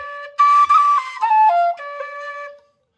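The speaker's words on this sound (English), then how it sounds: "to really do this octave jump cleanly without overdoing it" Tin whistle playing the opening of a tune, a clear solo melody that leaps up an octave and then steps down through several sustained notes before stopping cleanly into silence.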